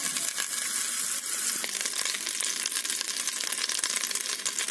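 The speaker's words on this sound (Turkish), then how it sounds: "Şimdi tereyağımı böyle tencereye attım. Tereyağımı güzelce eriteceğim." Butter melts and sizzles in a hot pot, a steady fizzing crackle that fills the short stretch at moderate volume with no talking.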